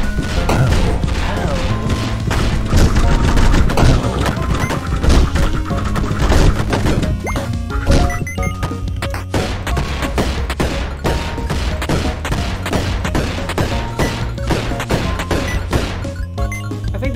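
Rapid, relentless gunfire and bullet attacks in the video game Dead Estate, dense overlapping shots and impacts layered over a driving soundtrack, loud and continuous throughout.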